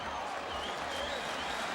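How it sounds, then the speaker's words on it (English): Crowd at a Brewers–Cubs night baseball game, as the pitcher comes out of the dugout to start the ninth: a dense, continuous roar of cheering and applause filling the whole stretch, with no pauses. "what a buzz in the ballpark"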